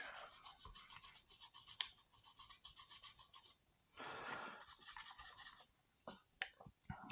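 A brush scrubs inside the yoke of a revolver during cleaning, giving close, steady rasping strokes with a short pause and a few sharp scrapes near the end. No one talks.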